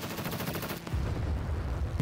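Gunfire in the video game SCUM during an aerial dogfight: rapid repeated shots in a fast rhythm, then a heavier deeper rumble of continued firing, loud and close throughout.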